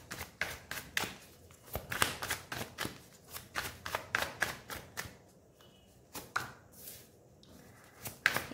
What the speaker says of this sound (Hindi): Divine and last shuffle.